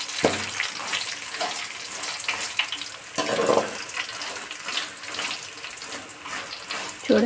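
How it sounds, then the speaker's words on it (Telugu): Red chillies fry in a pan over a medium flame, giving a steady hissing sizzle with faint crackles and an occasional stir, close and continuous throughout. "మిరపకాయలు వేసుకొని ఫ్రై చేసుకోవాలి."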